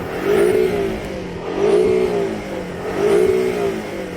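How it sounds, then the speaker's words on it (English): Turbocharged four-cylinder engine of a Porsche 718 Cayman revving three times in a row, each rise in pitch swelling loudly and settling back between blips, heard close with no talk. "Go on, rev up the Porsche."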